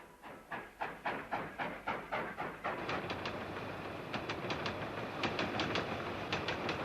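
A train rolls along the tracks with a steady clickety-clack of wheels over rail joints, fairly faint and evenly rhythmic, with no voices.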